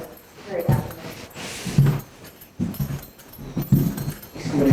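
Three loud dogs on a walk give short bursts of barking and whimpering, close by, in uneven clusters separated by quieter gaps, with no talk over them.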